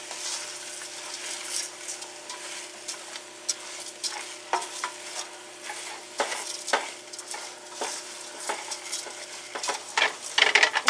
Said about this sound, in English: Get your rice, pop it on in there,